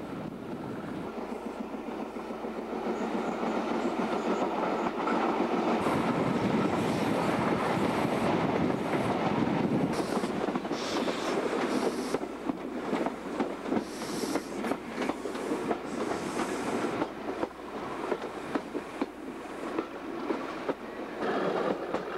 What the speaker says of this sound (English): Power is a Class 37 English electric diesel